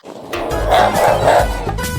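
A cartoon dog barks and howls wildly while chasing a frightened man in a Hindi comedy cartoon, a continuous loud, close, yelping stretch of barks with no pause.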